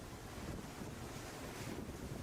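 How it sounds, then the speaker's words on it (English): Stormy ocean waves surge against a seawall under heavy wind, a dense continuous roar and rush of surf with gusty buffeting and no voices. "Ocean waves surge and crash against a nearby seawall, spray splashing onto the shore"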